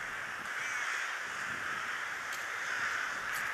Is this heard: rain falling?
no